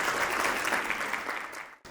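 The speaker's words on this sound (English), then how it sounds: "Big round of applause," A pageant audience claps for a contestant during a talent round: brief, full applause from a crowd, steady and fairly close before cutting off abruptly.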